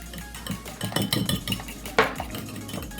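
A spoon or whisk mixes cream into a quiche filling of black pepper and seasonings in a bowl, making a run of quick clinks and scrapes against the bowl's side with one sharper knock near the end.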